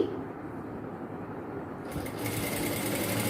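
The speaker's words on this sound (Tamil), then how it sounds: "நான் வந்து கைடு அளவுக்கு தான் வச்சு தையல் போடுறேன்." An electric sewing machine stitches a folded piece of cloth for a chudidhar top, running as a close, steady mechanical whir that picks up and grows louder partway through, with no speech.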